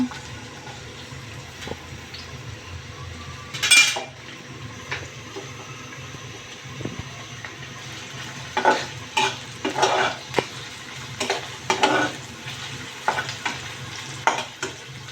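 Onions tipped into a pan and frying, a low continuous sizzle with a rustling burst as they go in, then clusters of close stirring scrapes.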